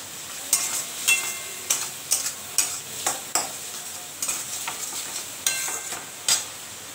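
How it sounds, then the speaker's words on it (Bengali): Prawns frying in a pan with garlic paste, a steady close sizzle broken by repeated scraping stir strokes in an uneven rhythm, with no voices. "এবার চিংড়ি মাছটা দিয়ে দিচ্ছি।"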